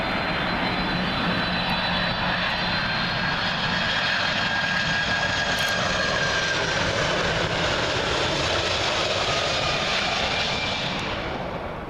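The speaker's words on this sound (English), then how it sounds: "Next up, Delta Airways 767 in the BCRF livery, coming in from New York City," A Delta Boeing 767 jet in BCRF livery arriving at Heathrow from New York JFK roars loudly and continuously overhead, a dense engine rush with thin whistling tones, easing slightly at the end, without speech.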